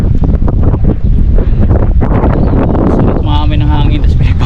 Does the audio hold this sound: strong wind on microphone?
yes